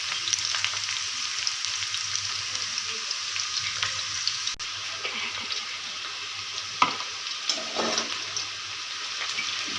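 Whole spices including cloves, cardamom and cumin fry in hot oil for chicken biryani, giving a steady close sizzle with a few soft clicks and stirring bumps.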